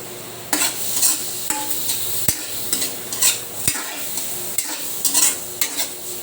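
Sautéed chayote, carrots and cabbage with chicken liver and gizzard get stirred in a sizzling pan, a steady fry hiss broken by repeated scraping strokes of the spatula, close and fairly loud, with no voices.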